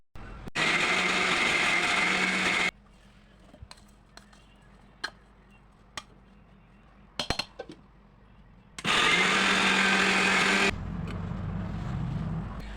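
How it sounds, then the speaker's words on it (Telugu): A mixer grinder blends ginger garlic paste with oil in two loud, steady bursts of whirring, separated by a quiet pause with a few clicks and knocks. "ఇప్పుడు మిక్సీ పట్టుకుంటే మెత్తగా గ్రైండ్ అయిపోతుంది."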